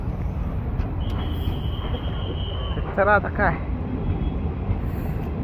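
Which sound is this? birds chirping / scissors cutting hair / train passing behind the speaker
train passing behind the speaker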